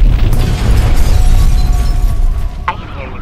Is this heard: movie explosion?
yes